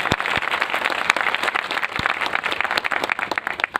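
An audience at a Hindi motivational talk claps loudly and steadily, a dense wash of many hands close by for several seconds, with no voices over it.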